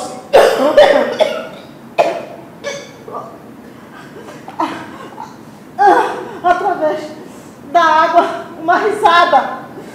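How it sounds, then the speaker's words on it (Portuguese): A person coughs repeatedly in harsh, breathy bursts, with strained breaths and gasps between the fits. "Tosse."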